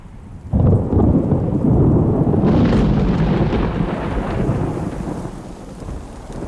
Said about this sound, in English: A brief thunderstorm.